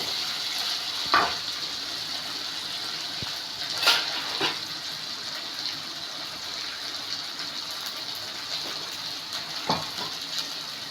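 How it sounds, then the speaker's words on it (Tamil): Tomatoes sautéing with softened onions in a pan for brinjal kara kulambu: a steady hiss of frying oil throughout, broken by a few sharp utensil clinks, close and without voices. "தக்காளி போட்டு வதக்கிக்கலாம்."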